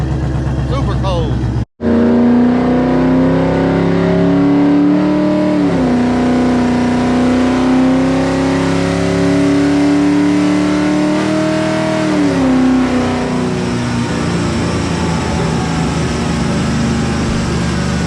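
Whipple supercharged Ford Coyote V8 swap running on E85 revs loudly and steadily through a dyno-style pull in cold outdoor air, the engine note rising and falling continuously after a brief cut, with voices talking over it.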